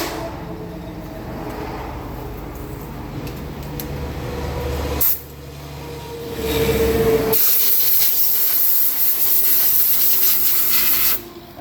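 Compressed air is blown onto a vehicle with 180,000 miles to trace a fluid leak. The hiss is loud and steady, dips briefly midway, then returns stronger and harsher until cut off.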